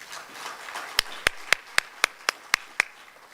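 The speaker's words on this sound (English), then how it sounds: "Another round of applause." A few people in a conference audience clap in a sparse, evenly spaced run of eight sharp claps, fairly close and clear, with no voices over them.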